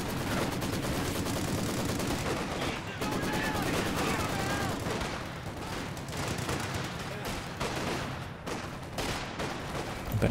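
Heavy artillery barrage and gunfire from Company of Heroes 2 during a 2v2 match, including a walking Stuka rocket barrage: dense, continuous explosions and rapid crackling shots fill the whole stretch, with a commentator's voice faintly underneath.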